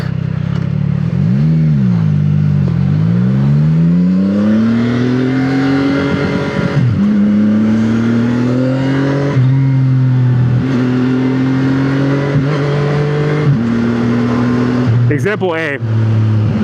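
A motorcycle engine revs up and drops through gear shifts, its pitch climbing and falling in repeated sweeps, loud and close with wind noise and a brief clatter near the end.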